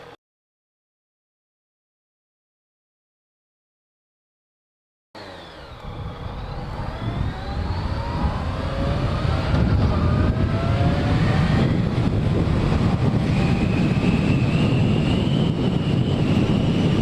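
A motorcycle sets off, with its engine note rising through several climbing tones under heavy wind rush after about five seconds of silence, then settling into a loud, steady roar.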